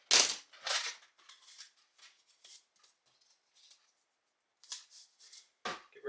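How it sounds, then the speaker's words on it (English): Scissors cutting material for a semi truck bezel, a series of crisp snipping crunches in irregular bursts with short pauses, close and fairly quiet. "I'll cut the material a little bigger than what I need."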